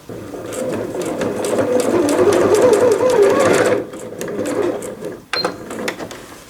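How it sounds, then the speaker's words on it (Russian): Sewing machine stitching a seam along the cut edge of fabric for a fitted sheet, a loud continuous mechanical whirring run for about four seconds, then a softer stretch with a sharp click near the end. "И теперь прокладываем строчку вот здесь, вдоль этого среза."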